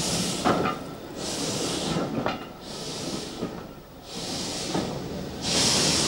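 A Borsig narrow-gauge steam locomotive hauls a mixed train of empty hoppers and creaking four-wheel carriages up a valley, with rhythmic exhaust chuffs and periodic bursts of steam hiss over steady rolling rumble, moderately near and alone.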